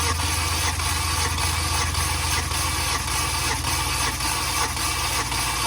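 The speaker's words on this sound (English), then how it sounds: "gas pedal to the floor, hold the brake, and crank it" A car engine cranks over on the starter during a compression test, with the gas pedal floored; a steady, rhythmic churning drone continues loud and close for the whole stretch, with no voices.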